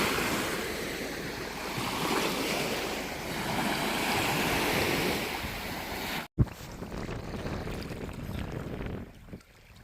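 Waves wash steadily onto a sandy, slightly pebbly beach on Amorgos Island, Greece, a broad rushing surf under wind that drops abruptly to a quieter hiss after a brief cut.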